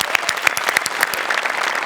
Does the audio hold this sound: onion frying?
no